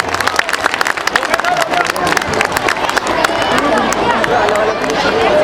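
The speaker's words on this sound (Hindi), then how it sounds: "आप लोग ताली बजाकर वहीं बैठे बैठे स्वागत कर दीजिए।" Audience applause at a school annual day function, a dense, steady patter of many hands clapping that swells slightly and holds to the end, with crowd murmur mixed in.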